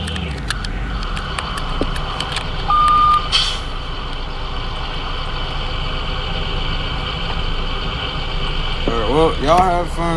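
A school bus backing up to park sounds steady reversing beeps over its idling engine, with a brief louder tone and some rattling near the end, heard from close by.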